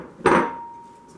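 Frozen cherries and strawberries drop into a blender jar full of greens with one sharp, hard clunk that leaves a short ringing tail, close and alone.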